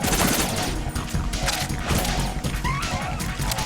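M4 rifle fire in Metal Gear Solid 2 crackles in rapid, loud repeated bursts throughout, sharp shots overlapping with other game noise.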